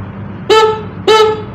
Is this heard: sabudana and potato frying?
no